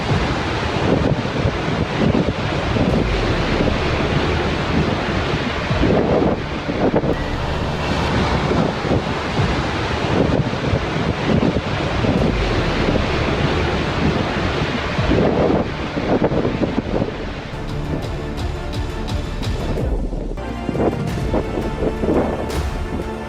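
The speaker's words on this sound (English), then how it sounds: "Iceland's glaciers often release massive chunks of ice that crash into the ocean." Huge chunks of Icelandic glacier ice crashing into the ocean and sending a wave across the water, heard as a continuous heavy rumble and surging wash of churning surf, with gusty wind buffeting the microphone throughout.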